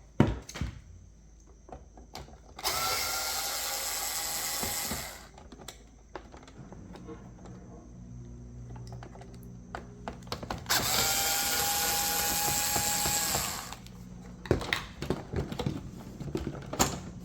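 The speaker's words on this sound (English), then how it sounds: "So we've removed 4 screws altogether to get the back of the robot off." Screws being removed from the back cover of an iRobot Roomba 960 with a power screwdriver: two sustained whirring bursts of the driver, close and loud, separated by clicks and handling clatter of plastic.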